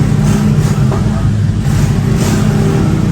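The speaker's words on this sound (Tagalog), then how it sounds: "Kaya mag-ingay ang mga sasakyan." Loud roadside traffic rumbles past close by, a steady dense wash of car and engine noise with occasional revving swells and no pauses.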